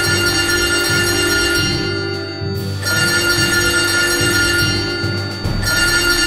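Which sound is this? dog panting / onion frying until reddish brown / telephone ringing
telephone ringing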